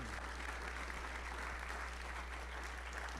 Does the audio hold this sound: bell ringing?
no